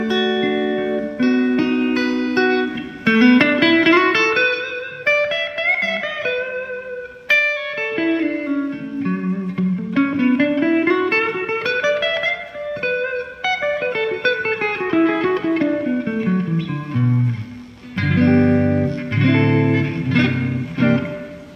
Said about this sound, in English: We've got a very, very long multi-reflection reverb going on here.